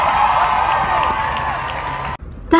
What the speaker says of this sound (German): Alle Leute jubelten schon, als ich reinkam.